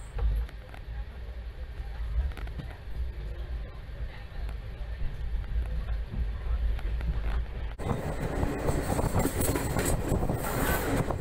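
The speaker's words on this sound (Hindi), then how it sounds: "गरीब रथ एक्सप्रेस कल्याण स्टेशन से डिपार्चर हो रही है" The Jabalpur Garib Rath Express pulls out of Kalyan station on the Mumbai–Nasik line, a steady rumble of wheels and carriages that swells into louder rattling and screeching toward the end.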